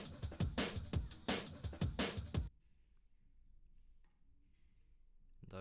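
Two layered breakbeat samples play together in a quick, punchy drum pattern of snappy hits for a couple of seconds, then stop abruptly and leave near silence.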